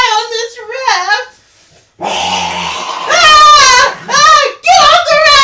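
A voice imitates a tiger growling on a raft, rough throaty snarls and whining moans in several bursts with brief gaps, loud and close.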